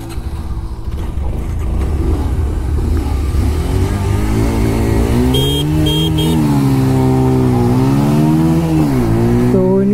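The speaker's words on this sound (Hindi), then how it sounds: "तो फर्स्ट राउंड में मैं चलाऊंगा ये बाइक" A Bajaj Pulsar 125 motorcycle pulls away from a start, its mid-pitched engine rising steadily in revs through the gears, loud and close for the whole stretch.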